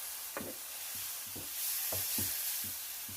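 Flour cooks in oil with onions and garlic for gravy, a soft sizzle under a series of spoon stirs and scrapes in the pan, about eight short strokes at a steady, unhurried rhythm.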